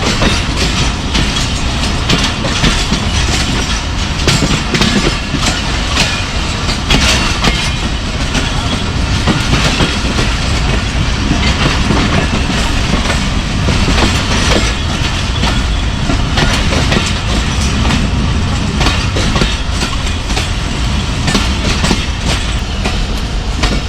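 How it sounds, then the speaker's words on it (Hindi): The Jaffar Express runs along the loop line toward Dina railway station in Punjab, its wheels and coaches making a loud, continuous clatter and rumble throughout, with no voices. "अभी दीना रेलवे स्टेशन के ऊपर लूप लाइन पे अप्रोच बना रही है ट्रेन हमारी"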